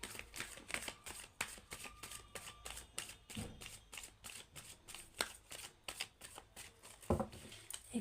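Tarot cards are shuffled close by, making a continuous run of quick, papery riffles and flicks with a few louder snaps.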